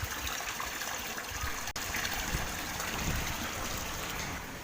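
Steady, soft trickle of running water from a filter in a backyard tilapia fish pond, continuous and fairly faint, with no voices.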